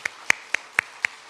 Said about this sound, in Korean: 우리 주님께 영광의 박수를 한번 올려드립니다